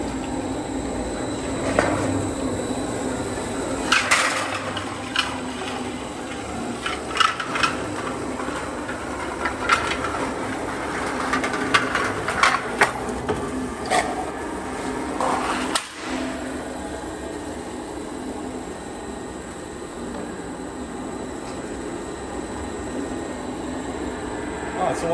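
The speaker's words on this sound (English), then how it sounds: "We're now going to run the slitter." Sheet metal folding machine running its slitter, a mechanical drone with scattered clanks and sharp knocks over roughly twenty-five seconds, with a person talking intermittently nearby.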